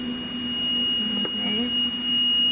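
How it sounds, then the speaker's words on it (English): Alarm from the HTS unit of a BD Fortessa X-20 flow cytometer: a steady, high electronic tone held continuously, with a sharp click and faint speech partway through. "that's our alarm"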